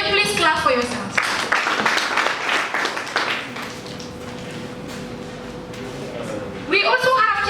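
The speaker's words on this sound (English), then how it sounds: "Can you please clap for yourselves?" An audience at a first-cohort graduation ceremony breaks into a dense burst of clapping that swells and then thins out, framed by a voice speaking over a microphone at the start and end.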